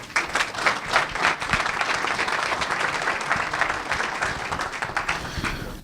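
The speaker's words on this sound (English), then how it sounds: "please give Robert a big round of applause and welcome" Steady, full applause from an audience welcoming speaker Robert DeVore at a community entrepreneurs' gathering, dense even clapping filling the room for several seconds.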